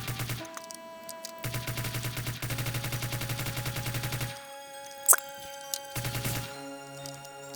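Video game gunfire in Fallout 3: rapid bursts of automatic fire with a sharp single crack partway through, set over steady electronic game music and tones.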